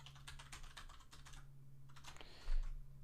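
Rapid bursts of keystrokes on a computer keyboard, in two runs separated by a brief pause, close and fairly quiet over a steady low electrical hum.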